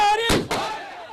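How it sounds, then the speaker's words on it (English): Fireworks crack at a night celebration in a small town, with two sharp bangs close together standing out over ongoing voices and background noise. "The usual quiet of the night disrupted with celebration and fireworks."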